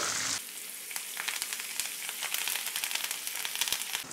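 Ribbon fish fry in hot oil with shallots and curry leaves, giving a dense, continuous crackling sizzle after a brief louder burst at the start, close and steady.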